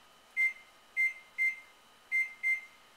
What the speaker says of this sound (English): I'm going to use a timer.